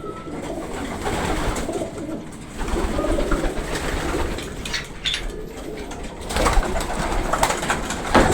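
Pigeons coo steadily inside a fancier's loft, a low, continuous murmur of overlapping calls from many birds, with a few brief flutters and louder swells near the end.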